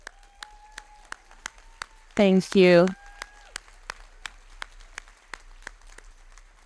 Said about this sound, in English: can I ask all the staff in the room to please stand and receive a round of applause?